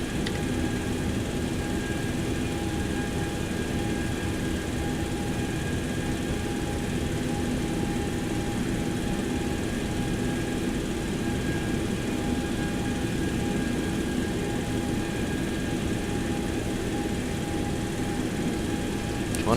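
Boeing 727 jet engine spooling up during start before takeoff, a steady loud whine with sustained tonal hum and broad roar running throughout, heard from inside the aircraft.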